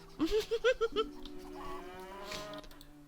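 A prize champion cow in The Witcher gives a short series of low, pulsing moos, close and moderately loud, with a faint voice and ambient game sound behind.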